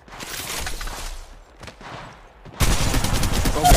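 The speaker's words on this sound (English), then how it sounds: "Shots fired and they're hitting me." Gunfire in the Apex Legends Mobile battle royale on the King Canyon map: bursts of shots trail off, then a louder, denser volley of fire comes in close for the last second, with no talking over it.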